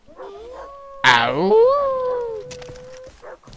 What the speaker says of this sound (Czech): Shut up, dogs.